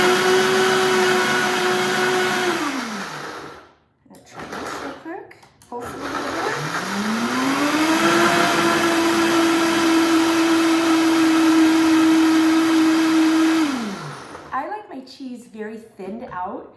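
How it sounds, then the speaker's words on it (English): A blender purees nacho sauce made with olive oil in a kitchen, a loud whining motor that winds down, pauses, then spins up again for a long steady run before stopping, with brief talk in the gaps. "We're gonna throw it in the blender."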